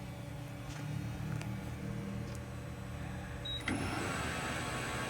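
A 2022 Southwestern Industries TRAK TRL 1630RX CNC lathe spindle turns at 500 RPM, giving a steady mechanical hum with faint tonal whine, with a brief bright tone and slight rise in level near the end.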